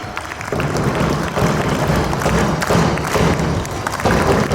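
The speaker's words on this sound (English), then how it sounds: "Please give them a big clap." An audience applauds an Independence Day school program with sustained, dense clapping and thuds, loud and steady throughout, swelling slightly after the first half second.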